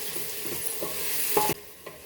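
A spoon scrapes and stirs tomatoes with salt and turmeric in a hot pan for kuska rice, with a soft sizzle and a few close clicks of the utensil against the pan.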